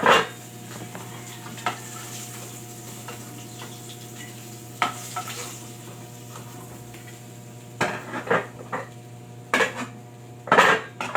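Leftover fish soup is reheated in a pot on the stove, with metal scrapes and clinks from stirring scattered over a steady low cooking hum and faint sizzle.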